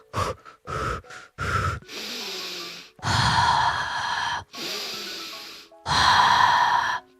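A voice imitates heavy breathing, a series of loud, close, rasping breaths and gasps: several short sharp inhales, then longer drawn-out huffs with brief pauses between them.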